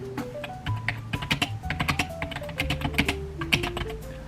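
Rapid, uneven keystrokes clatter on a computer keyboard while an email is typed, a close and continuous run of sharp taps with no voices.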